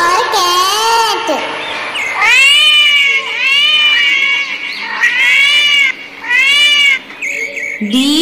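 A cat meows loudly and repeatedly, long drawn-out wails close to the listener, one after another with brief pauses.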